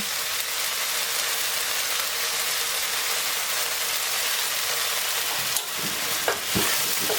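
Eggplant stir-fried with red chili and basil in a vegetarian Thai dish gives a steady, close sizzle, with a few clinks of the spatula near the end.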